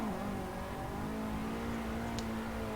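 A drift car's engine in the Assetto Corsa sim on a night touge-style track holds a steady, loud drone after an upshift to third, running continuously at near-constant pitch with no talk over it.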